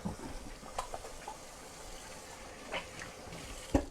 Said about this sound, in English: let me wash my hands and then we'll get started